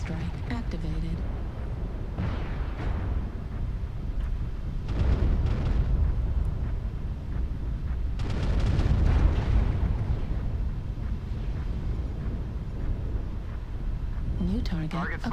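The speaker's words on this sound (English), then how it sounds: "Artillery strike activated." Artillery strike in MechWarrior Online, several deep booming explosions arriving in separate waves with rumbling tails, heard under an ongoing game soundtrack.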